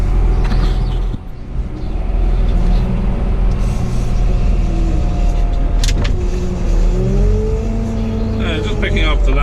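A tractor picks up and stacks round bales, its engine droning loud and steady throughout, with a brief dip and a few clanks and rising whines from the working loader.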